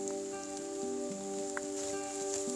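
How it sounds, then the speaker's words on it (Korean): Rain falls in a bamboo forest in Iksan, a steady, soft patter spread evenly across the clip, with a faint sustained hum running underneath and no voices. "비가 내리고 있습니다."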